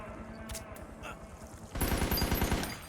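A semi-auto rifle in a Metal Gear Solid game: a few sparse sharp reports first, then a sudden loud burst of rapid gunfire that continues to the end.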